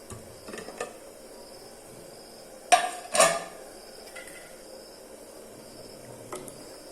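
A pressure cooker holding dal and banana flower is opened after cooking, with a few light metallic clinks and two sharp clanks of the lid in a quiet kitchen.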